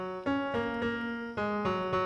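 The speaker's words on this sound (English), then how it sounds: "It's a sort of division of the octave that will produce melodies that sound like this." A short melodic line built on a heptatonic diatonic scale in an ancient Mesopotamian style, played as a few sustained plucked or bowed notes stepping one after another, clear and close with no voices.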